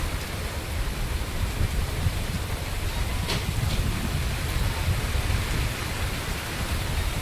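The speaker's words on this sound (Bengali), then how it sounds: "ভালো বৃষ্টি শুরু হয়েছে।" Heavy rain pouring down steadily on a road during a downpour, a dense, even roar of drops with no break and no voices.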